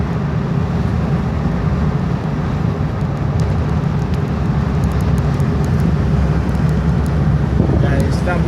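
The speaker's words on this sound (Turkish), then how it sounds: "Şu anda gördüğünüz gibi trafiğe bakın." Road traffic rumbles steadily on a congested street, a continuous low drone of engines close by, with faint higher clicks and a brief rising whine near the end.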